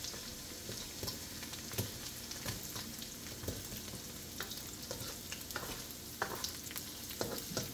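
Garlic and onion frying in a pan for sweet and spicy chicken feet, a steady close sizzle broken by scattered stirring clicks and scrapes, no talking.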